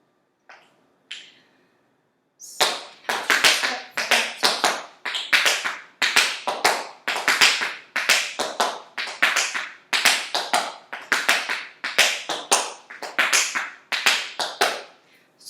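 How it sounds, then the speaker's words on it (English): Tap shoes striking the floor in a nine-tap time step, a few isolated taps and then a fast, steady run of crisp clicking beats in repeating groups, close and loud with no talk. "it's called a 9-tap time step"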